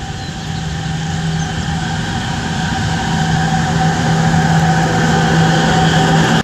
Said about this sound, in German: Da kommt der schnellste Zug der Welt.